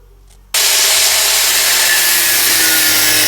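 Power tool cutting a small protruding metal piece off a handmade sword, starting abruptly after a brief quiet moment into a loud, steady, harsh grinding whine close by with no voices.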